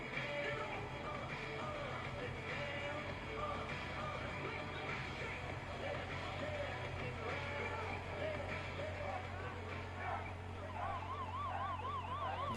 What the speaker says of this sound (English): Siren to signal the end of the quarter.